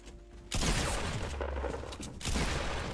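Rapid bursts of gunfire in the video game Fortnite, a sudden dense volley breaking in after a quieter moment and swelling again near the end, loud and close with no talk over it.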